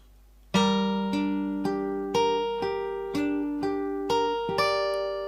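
A guitar picks out a slow melody of single plucked notes from a piece from The Last of Us Part II, each ringing out before the next, about eight notes in an even rhythm.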